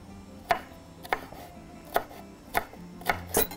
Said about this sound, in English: chop it real finely too